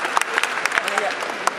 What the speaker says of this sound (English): Tepuk tangan dong buat mereka berdua.